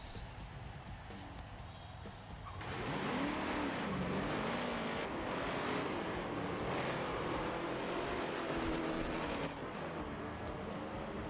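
Stock race cars in a Daytona racing video game roar together, engines droning steady and loud as the pack rises in pitch and volume, a dense continuous field of motor noise without talk.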